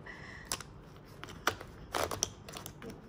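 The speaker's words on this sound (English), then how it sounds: "The scissors is coming out." Metal scissors slide out of a LIHIT LAB fabric pencil case, giving a few short crinkly rustles and clicks close to the mic, with a sharper rattle near the end; no talking.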